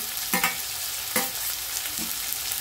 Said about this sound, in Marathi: आता आपण टोमॅटो टाकून घेऊ